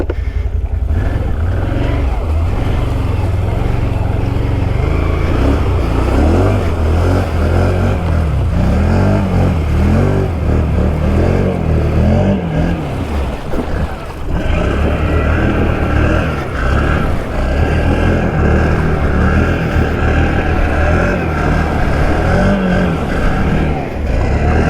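A 2019 Can-Am Outlander 650 XMR ATV churns through deep, nasty mud, its engine revving hard and continuously for the whole stretch, loud and close with surging throttle and a brief dip midway.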